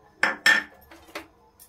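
Yellow mustard seeds tipped into a pan for dry roasting, giving two sharp clattering rattles close by followed by a softer scatter and a faint final tick.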